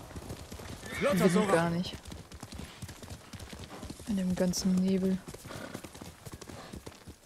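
Horse sounds from the video game Ghost of Tsushima: hooves clip-clop steadily at a gallop as the horse whinnies twice, with a person talking over the game audio.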